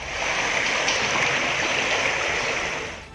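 Floodwater rushes loudly and steadily through an overflowing city drain after heavy rain, a continuous broadband roar with no pauses.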